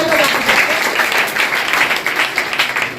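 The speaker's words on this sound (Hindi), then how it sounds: "इनके लिए जोरदार तालियां पर" An audience at a children's general knowledge competition prize ceremony breaks into loud, sustained applause, many hands clapping close by, with an announcer's voice faintly underneath.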